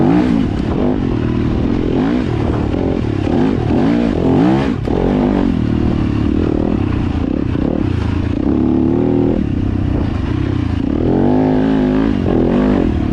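Yamaha YZ250FX dirt bike ridden on a trail, chasing a new Beta 300RR, its engine loud and close throughout, revving up and down with wavering pitch over wind and clattering.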